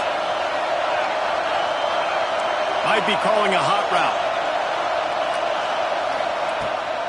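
Stadium crowd roars steadily behind the defense on a big third down at an Oregon vs. Alabama football game, a constant dense wash of voices with a commentator talking over it.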